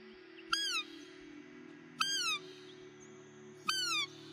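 A Weisskirchen Fiep-Piu deer caller is blown three times, each call a short, clear whistled tone that slides downward, spaced about a second and a half apart over a steady low background hum.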